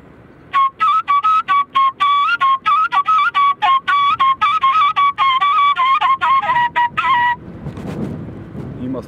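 A whistle played in duduk style gives a rapid run of clear, bright tones with fast staccato articulation and little ornamented pitch bends, close and loud, ending in soft rustling.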